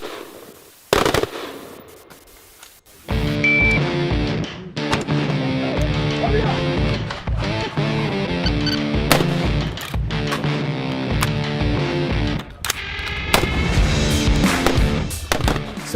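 Small arms gunfire at a Navy EOD training range, with sharp shots cracking singly and in quick bursts over a loud musical backdrop.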